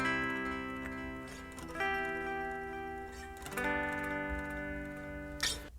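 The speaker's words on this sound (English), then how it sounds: "clean guitar chords with a quarter note delay on them" Clean electric guitar chords from a 2011 recording, played through a quarter-note delay, ringing sustained chords that change every second or two, with light pick clicks and echoes, fairly quiet and alone.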